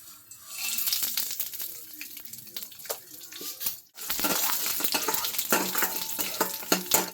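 Chana dal, urad dal, mustard seeds and a byadgi chilli hit hot oil for a tempering, giving a loud, steady sizzle and crackle with scattered pops and a brief dip midway, heard up close without talk.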